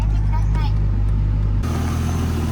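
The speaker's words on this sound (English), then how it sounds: "I'm going to turn the car off and turn it back on and see what happens with the boost" A 1998 Nissan Skyline R34 GTT engine idles steadily, then its sound shifts abruptly partway through, with the low hum changing character as the engine is cut and restarted nearby.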